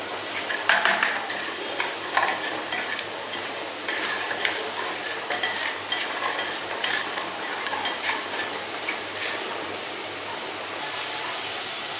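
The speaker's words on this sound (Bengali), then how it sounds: "বেরেস্তাটা ভাজতে ভাজতে আমি মাছে নুন হলুদ মাখিয়ে নিচ্ছি।" Onions frying in oil to make birista for hilsa biryani: continuous bubbling sizzle with frequent spatula scrapes and stirring clatter against the pan, close and steady, settling into a smoother hiss at the end.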